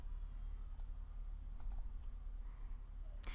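A few sharp computer mouse clicks, sparse and close, over a steady quiet background hum.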